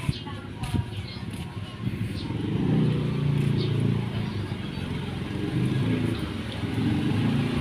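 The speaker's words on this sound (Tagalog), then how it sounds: "Ayan ang mga sasakyan." Cars and motorcycles pass along a hot street, a continuous rumbling engine drone that swells and fades as vehicles go by, fairly close, with faint chirps above.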